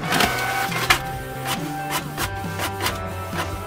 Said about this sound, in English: And then we're just gonna start printing.